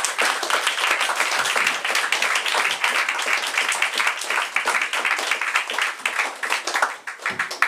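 Loud, dense applause from a large comedy-club audience in Nantes, steady and continuous throughout with many hands clapping at once.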